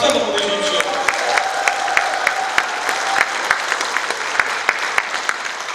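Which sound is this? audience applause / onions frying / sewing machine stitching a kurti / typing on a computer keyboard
audience applause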